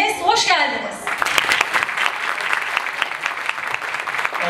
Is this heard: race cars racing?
no